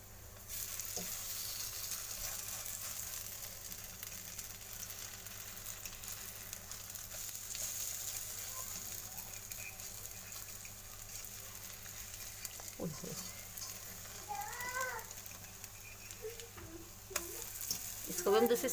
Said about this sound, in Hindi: अब इसको हम हल्के हल्के गैस पे फ्राई करेंगे।